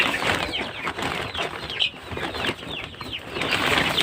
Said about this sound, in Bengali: আমাদের এখানে 25টার মতো মুরগি আছে।